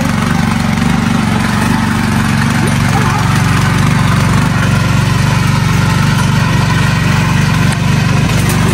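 A tractor ploughs a field, its engine a loud, steady drone that runs unbroken from start to finish, close by and with no pauses or changes in pace.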